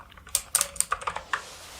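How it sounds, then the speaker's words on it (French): Close, crisp keyboard typing: a quick run of about nine sharp key clicks at an uneven rhythm, with no voices. "les bruits des claviers"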